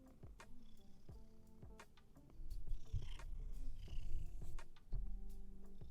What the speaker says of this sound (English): that was him purring